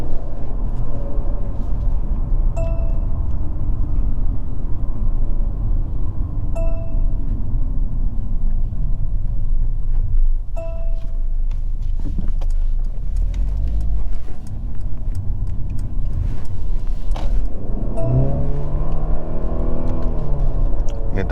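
A 2022 Mercedes C300 4matic engine accelerating from inside the cabin, a steady loud drone that rises in pitch with a few faint clicks and a shift near the end.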